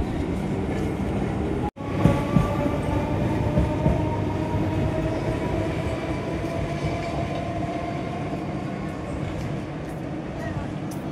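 An AC local train with ICF coaches running from Krishnanagar to Sealdah, a steady close rumble of wheels and carriage noise after a brief dropout near the start, with faint rhythmic rail clatter throughout.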